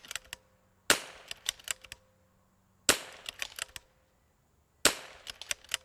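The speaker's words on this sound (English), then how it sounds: "Let's see if we can run it kind of fast until we run out of ammo." A rimfire rifle fitted with a Desert Precision Gunworks RimX mod fires three loud, sharp shots about two seconds apart, each followed by short ringing echoes and clatter.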